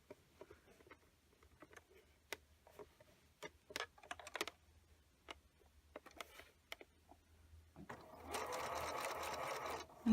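A sewing machine back stitches a seam on a cloth bag, its needle ticking in short irregular bursts, then running in a steady, louder stretch of continuous stitching near the end.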